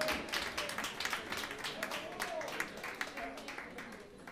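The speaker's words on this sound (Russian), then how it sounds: "Армен Мирабов, ваши аплодисменты." Audience applause at a stage event as performers are called up, a moderate crowd clapping steadily for about four seconds, somewhat distant and fairly soft.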